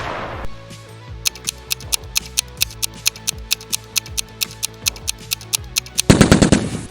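A PARAFAL rifle fires in PUBG as a steady run of about twenty sharp, evenly spaced shots, loud and close, ending in a denser burst of blasts.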